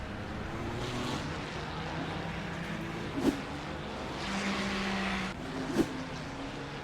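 A GT3 race car circling Interlagos after running wide over the rumble strips, its engine a steady distant drone with two brief sharper bursts as it sweeps past.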